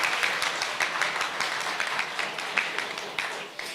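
Applause for the teams at a deeptech hackathon awards ceremony, a room of people clapping with distinct individual claps audible in a moderately loud, steady patter over a few seconds.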